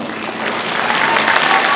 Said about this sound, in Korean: 손박수로 축하해 주시기 바랍니다